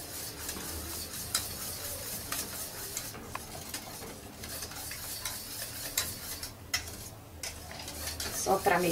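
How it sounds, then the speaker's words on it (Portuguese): A spoon stirs a thickened cream pudding mixture for manjar in a pot, soft scraping and clinking strokes close up, with a faint background hiss and a brief louder clatter at the end. "Só pra mexer aqui pra misturar"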